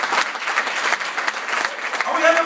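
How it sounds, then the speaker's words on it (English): Comedy club audience applauding with steady, dense clapping at close range, continuing throughout with a slight swell near the end. "You guys give all yourselves a round of applause."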